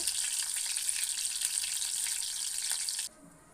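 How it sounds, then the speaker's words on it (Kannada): Bitter gourd stuffed with curd fries in hot oil, a dense steady crackling sizzle heard up close that drops abruptly to a faint low hum near the end. "ಹಾಗಲಕಾಯಿಯನ್ನು ನಾವು ಫ್ರೈ ಮಾಡ್ತಾ ಇದ್ದೇವೆ. ಇದು ಚೂರು ಗೋಲ್ಡನ್ ಬ್ರೌನ್ ಆಗೋ ತನಕ ನಾವು ಫ್ರೈ ಮಾಡಬೇಕಾಗುತ್ತೆ"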